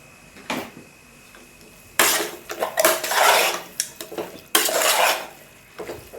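Masala powder is mixed into beef biryani in a pot, with bursts of metal spoon scraping and clanking against the pot between quieter pauses.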